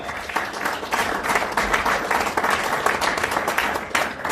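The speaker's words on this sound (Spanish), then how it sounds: "Denle un aplauso fuerte al Señor, hermano." Church congregation applauding during a service, a dense, continuous roar of many hands clapping, steady and full throughout with a faint voice beneath.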